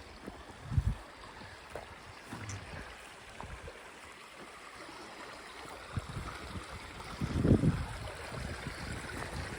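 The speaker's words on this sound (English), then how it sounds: "Look at this creek." A creek flowing in open country, a soft, steady wash of water heard from close by, with a few louder splashy bumps near the start and again toward the end.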